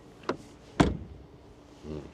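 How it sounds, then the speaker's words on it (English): A light click, then a solid thud as a Mercedes GLC 43 AMG door shuts nearby, followed by a brief faint mechanical hum. "door closing sound"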